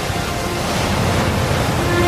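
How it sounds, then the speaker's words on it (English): Ocean surf roaring at the seashore, a loud, continuous wash of broadband water noise with a low rumble, steady and unbroken. "The ocean was roaring,"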